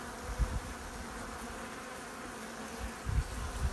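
Honeybees from an opened beehive buzz steadily and close by, a dense continuous drone with a few louder passes as individual bees fly near.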